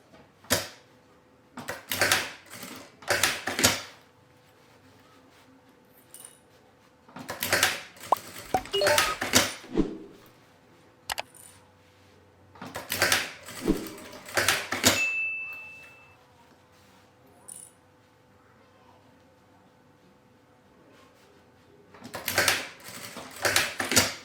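A sewing machine backstitches a bag piece in several short bursts of rapid mechanical stitching, separated by quiet pauses, heard close and moderately soft with no talking.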